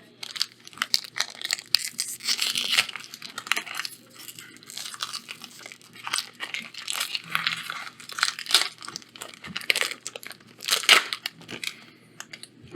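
Zendikar Rising trading card booster pack being torn open, close crinkling and ripping of foil wrapper in irregular bursts, with rustling handling noises between tears and no talking.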